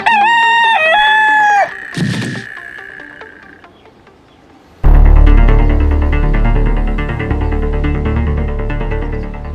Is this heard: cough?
no